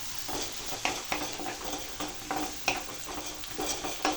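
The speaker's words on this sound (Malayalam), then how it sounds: "മഞ്ഞൾപ്പൊടി ഇട്ടു, മുളക് പൊടി ഇട്ടു, കുറച്ച് മുളക് പൊടി ഇടുവാണ്. പിന്നെ വീണ്ടും നന്നായിട്ടൊന്ന് വഴറ്റുക." Turmeric and chilli powder sautéing in oil in a pan, a soft continuous sizzle with repeated spoon-scraping strokes at an uneven rhythm, close and moderately quiet, no voices.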